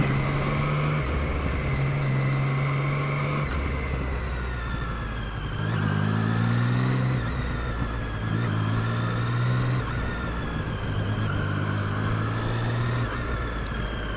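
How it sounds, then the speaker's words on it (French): Triumph Street Triple 675R motorcycle engine revving up through repeated throttle blips, its harmonic pitch rising and falling in steps as it accelerates, loud and close with steady road and wind noise and no talking. "Un petit coup de gaz, ça nous évite de faire déraper la roue arrière inutilement."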